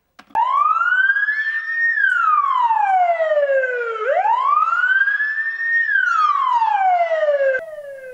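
Fire engine siren arriving at kindergarten number 55, a loud close wail that rises and falls slowly in two long sweeping cycles, alone with no talk.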